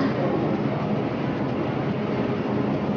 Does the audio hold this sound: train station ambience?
yes